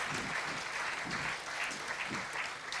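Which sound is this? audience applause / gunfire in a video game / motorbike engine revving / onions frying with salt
audience applause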